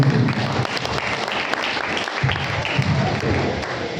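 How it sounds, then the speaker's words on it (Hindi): Enthusiastic applause from an audience at a spiritual talk on stress-free living, a dense steady wash of clapping lasting throughout with a faint murmur of voices underneath. "ऐसी नेहा दीदी के लिए जोरदार तालियां"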